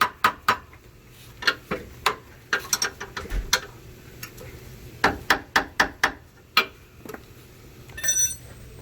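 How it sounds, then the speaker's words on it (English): A rubber mallet taps the metal parts of a Chevy bumper, short knocks coming in quick clusters with brief pauses between, close by and fairly quiet. "Take a rubber hammer, bump those to make sure that they stay tight."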